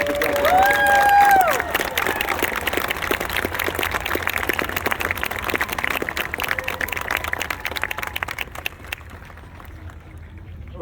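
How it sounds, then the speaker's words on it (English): A crowd applauds drill instructors and their families outdoors, with sustained clapping and cheering, a brief whistle near the start, and the clapping thinning out toward the end. "please join me in a well-deserved round of applause for the drill instructors and families of the drill instructors"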